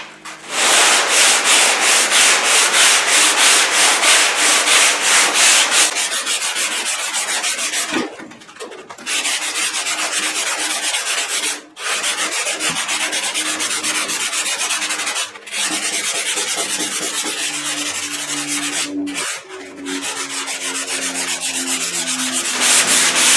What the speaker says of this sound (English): I'm going to go over one more time a little with the 100 grit, just to kind of scuff it up